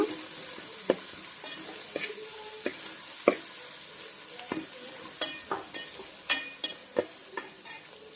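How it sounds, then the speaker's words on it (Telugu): Fresh ginger paste fries in a pan with a soft, constant sizzle, punctuated by a series of crisp spatula scrapes and taps that grow more frequent toward the end. "అల్లం పేస్ట్ పచ్చివాసన పోయే వరకు అయితే ఫ్రై చేద్దాము"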